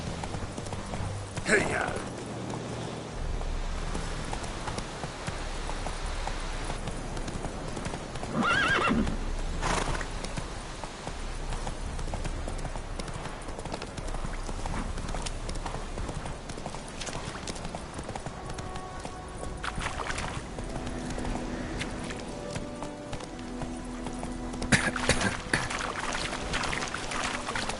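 Roach the horse gallops in The Witcher 3, with steady clip-clop hoofbeats and a few whinnies running through the whole stretch over game music, while a voice shouts a short urging call.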